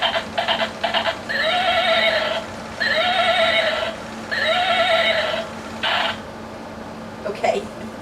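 A toy horse gives three repeated electronic neighs, loud and close, with short pauses between them and a few clicks before and after.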